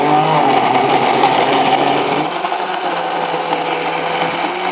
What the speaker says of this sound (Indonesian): blender sampai halus.